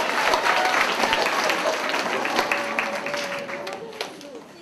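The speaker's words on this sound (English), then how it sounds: "Let's give a big round of applause for Mrs. Sobin." A school audience applauding at eighth-grade capstone presentations, with strong, continuous clapping that starts loud and gradually fades, a voice faintly audible beneath it.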